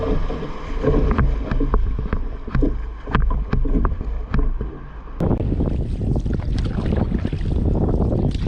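A canoe is paddled across calm water on a northern Manitoba river trip, with repeated paddle strokes and water sloshing close by and wind buffeting the microphone, growing gustier toward the end.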